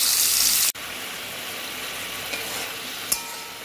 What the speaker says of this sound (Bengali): তাই আমি চিংড়ি মাছটা অল্প ভেজে নেব